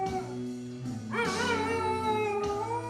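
A dog howls in long, pitch-sliding wails along to a country song, its voice rising over the steady music and then easing back before a final swell.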